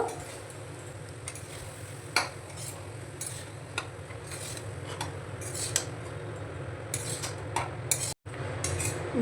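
Mango rice being mixed in a pan with the gas switched off, a steady low hum under a run of light clinks and scrapes of a utensil against the metal, with no one talking.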